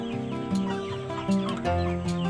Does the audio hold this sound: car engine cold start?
no